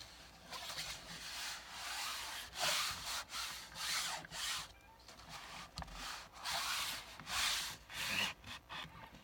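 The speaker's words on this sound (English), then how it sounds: "I'm going to burnish it down a little bit." Paper being burnished down by hand on a leather-craft storage pouch, heard as soft, close rubbing strokes in an irregular rhythm with short pauses, with no talking.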